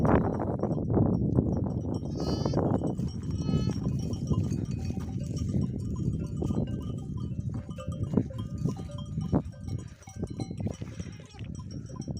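Twin lambs and adult sheep bleat repeatedly outdoors on a mountainside, the calls near and clear amid rustling, with a person talking at times.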